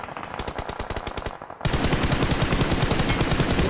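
Gunfire in the mobile battle royale game Battlegrounds Mobile India, a rapid automatic stream of shots rattling without a break, growing louder and denser partway through as a second weapon joins.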